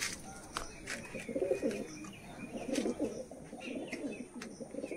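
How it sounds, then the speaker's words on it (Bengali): Pigeons on a village rooftop by a small loft with a landing board: soft, repeated throaty coos from several birds, fairly close, with faint chirps and a few sharp clicks in the background and no speech. "এই হচ্ছে পায়রাগুলো দাদা ছেড়ে দিয়েছে দেখো ছাদের উপরে"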